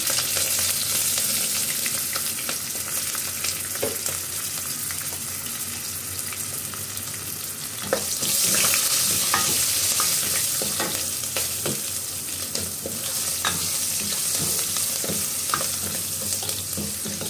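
Spices frying and being stirred in a pan for a brinjal and field-bean (mochai) curry, with a continuous loud sizzle and spatter broken by scrapes and taps of a stirring spoon.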